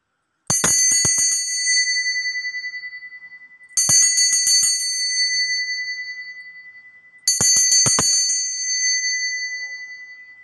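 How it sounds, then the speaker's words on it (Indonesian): A bell rings three times at roughly three-second intervals, each a bright, clear strike that lingers and fades slowly before the next, loud and alone with no talking. "akan ditandai lonceng berbunyi ya"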